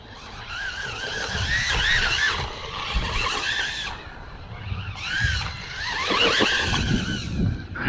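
A HOSIM M12 JAZEX brushless RC buggy runs in passes, its high whining motor rising and falling in pitch as it speeds past, with squealing surges of acceleration and no talk.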